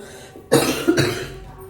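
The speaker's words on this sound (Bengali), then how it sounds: "কথা বলতে পারছি না খুব কষ্ট হচ্ছে কাশি হচ্ছে" Two sharp coughs in quick succession from someone with a bad cough, close and loud, with quiet before and after.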